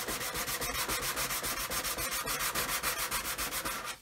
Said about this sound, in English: so I'll just keep sanding